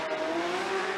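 A Toyota GR Supra drift car in a 2022 Formula Drift competition run screams at high revs with a sustained engine whine and a faint trace of tire noise, heard from a distance.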